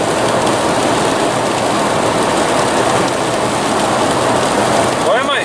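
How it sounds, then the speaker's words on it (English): Steady rain drumming on a car driving to Deer Lodge, Montana, a dense, constant hiss and patter with road noise, close and unbroken throughout, with no voices. "The rain is not that big of a deal."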